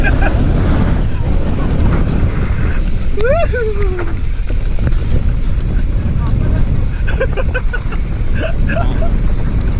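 Strong wind buffets the microphone on a downhill mountain bike track, a loud, constant roar throughout, with brief voices and whistle-like calls breaking through now and then.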